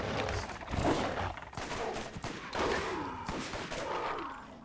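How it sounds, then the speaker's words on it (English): Machine gun fire in the video game Borderlands, delivered as loud, dense bursts of rapid shots in several rattling volleys with brief breaks between them, close and dominant throughout. "I love this machine gun,"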